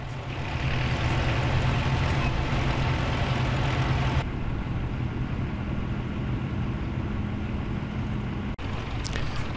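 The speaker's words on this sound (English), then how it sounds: "And the wonderful Massey Ferguson tractor" Vintage Massey Ferguson tractor idling and running at a vintage farming show outdoors, a steady low engine drone that drops partway through, with a brief sharp break near the end.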